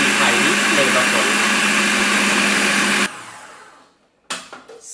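Blender whirring at full speed as it blitzes a chunky kidney bean dip with olive oil, a steady loud roar lasting a few seconds before cutting off, followed by faint clatter.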